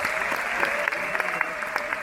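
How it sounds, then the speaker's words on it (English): Audience applause in the CCITC Auditorium in Cape Town during an SMME summit, a brief burst of steady crowd clapping with a few crisp claps poking through. "Let's give Rosario a round of applause"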